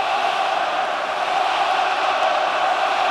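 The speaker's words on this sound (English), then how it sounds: "the crowd now getting behind the Scots" Dense rugby stadium crowd at a Scotland versus Australia World Cup match, a steady roaring wall of cheering and chanting that holds loud and unbroken from start to finish.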